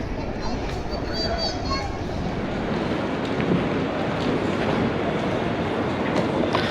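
A Paris Métro train at Cité station rumbles and clatters close by without pause, with faint wheel squeals and murmuring voices mixed into the noise.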